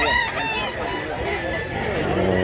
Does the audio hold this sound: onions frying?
no